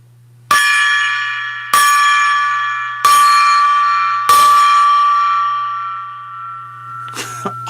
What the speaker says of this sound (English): Let's ring that gong.